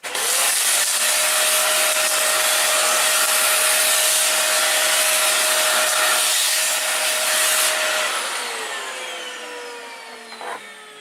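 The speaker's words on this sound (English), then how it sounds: "Just excuse me again while I just get the hoover back on." Household hoover running steadily nearby in a workshop while hard fishing lures are being copied, a loud continuous whine and rush that slowly winds down toward the end.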